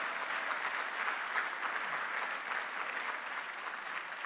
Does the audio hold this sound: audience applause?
yes